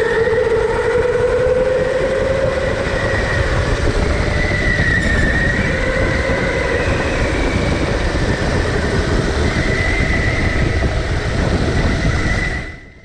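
A rental go-kart engine drones loudly and steadily on an indoor speedway track, its pitch rising and falling slightly through the lap with a constant buzzing roar close by.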